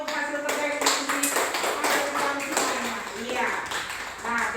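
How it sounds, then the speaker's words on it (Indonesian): A classroom of students claps for the best discussion result, a loose, uneven run of hand claps with separate sharp slaps standing out, fairly close, while voices murmur underneath. "berikan tepuk tangan untuk hasil terbaik diskusi"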